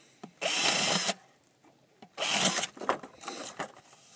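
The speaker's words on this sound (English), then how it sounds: "I'm gonna drill a 3 drain holes on the bottom." Two bursts of a small power drill biting into a hard, hollow gourd, drilling drain holes in the bottom, with a short pause between them and a few brief clicks after.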